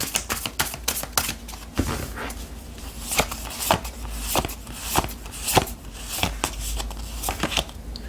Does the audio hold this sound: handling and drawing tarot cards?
yes